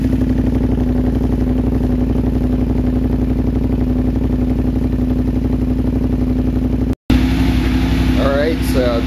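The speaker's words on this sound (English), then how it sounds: "I'm just going to let it warm up a little bit" An Aprilia Mana 850GT motorcycle fitted with a Leo Vince exhaust idles while warming up, a steady loud throbbing hum; a short dropout occurs near the end and a voice speaks briefly afterward.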